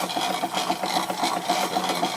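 A Stuart Victorian model steam mill engine drives a Wilesco fairground model through Meccano pulley wheels. It runs at a steady slowed pace with a continuous fast mechanical chatter and a rhythmic pulse, close and even, with no talking.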